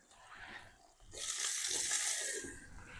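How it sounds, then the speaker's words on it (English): Food sizzles and hisses in a hot pan, swelling suddenly louder partway through and holding a bright, crackling hiss before easing slightly. "Ooh, hear that thing sizzle."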